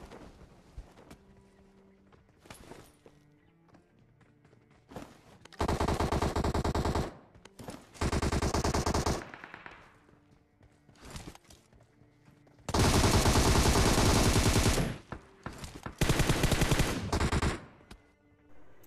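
Gunfire from the PUBG mobile video game, with bursts of automatic fire in several loud, sustained volleys separated by quieter gaps and scattered single shots.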